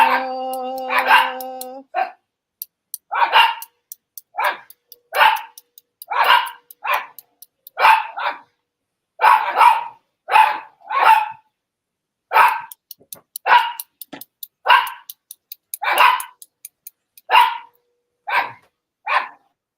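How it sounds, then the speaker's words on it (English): A small dog barks repeatedly and loudly close by, a long run of sharp yaps in irregular bursts, with a brief howl-like tone at the start. "Oh, my little dog."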